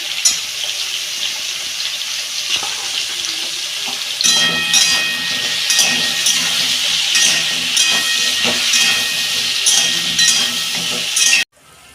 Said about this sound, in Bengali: আমার আলু পটল ভাজা হয়ে গেছে